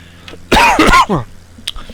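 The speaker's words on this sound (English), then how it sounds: "Try not to die from the cough." A single harsh cough burst close to the mic, rasping and throaty, followed by quieter breathy sounds.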